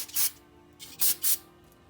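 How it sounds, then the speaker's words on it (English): Brake cleaner sprayed from an aerosol can onto a 2004 Jeep Wrangler front driveshaft during u-joint replacement: three short, close hissing bursts, one longer then two quick ones, with quiet gaps between. "spray brake clean in there again"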